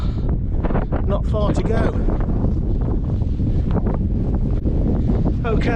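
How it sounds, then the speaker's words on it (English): Strong wind buffets the microphone on the Titterstone Clee Hill summit, a steady loud roar with gusty surges while someone talks briefly over it. "You probably hear the wind now."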